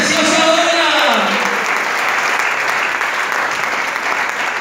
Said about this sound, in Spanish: Una ofrenda de palmas al Señor en esta preciosa hora.